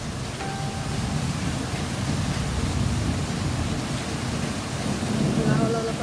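Steady rain falls during a Kalbaishakhi thunderstorm, a broad continuous hiss with low rumbling beneath and a few faint tonal sounds, lasting the whole stretch without a break.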